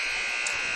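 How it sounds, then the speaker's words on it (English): A steady, loud electronic buzzer blares at a high school boys' basketball game in Leo, Indiana, marking the start of the third quarter in one continuous, harsh tone. "So again, buzzer."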